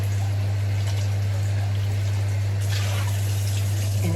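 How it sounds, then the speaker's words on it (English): Water pours into a ready-made citrus kombucha drink mix from a sachet, a continuous close splashing stream beneath a steady low electrical hum, with no talk. "All I have to do is add water to it."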